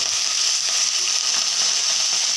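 An even, unbroken hiss of frying rises from vegetables just added to hot oil with whole cumin. It stays constant and fairly loud with no pauses and no speech.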